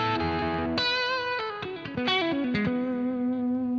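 Distorted electric guitar plays a short run of picked notes and chords, then rings out into a sustained, buzzy held note with a touch of effect shimmer, loud and close with no voices.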